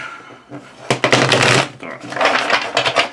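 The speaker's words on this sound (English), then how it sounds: "We will make this the last shuffle." Rapid riffling and slapping of a tarot card deck being shuffled, several bursts close to the microphone with brief pauses between.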